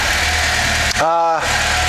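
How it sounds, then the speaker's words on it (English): A car engine running on a makeshift test rig, held at a steady idle with a brief throttle blip that rises and falls in pitch midway, loud and close throughout. "make sure the engine is running happily"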